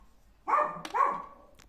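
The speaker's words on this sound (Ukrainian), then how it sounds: "Я вибачаюсь, песик сьогодні зранку свариться з сусідами." A small dog barks twice in quick succession indoors, fairly near, the short sharp yaps standing alone in a quiet room.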